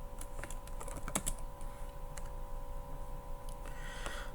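Faint typing on a computer keyboard: a few scattered soft key clicks over a quiet hum.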